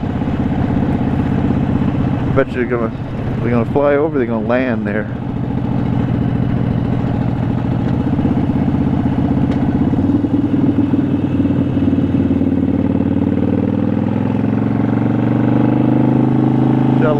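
Harley-Davidson Sportster 72 XL1200V motorcycle engine running steadily and loudly throughout, a continuous low rumble with a voice talking over it near the start.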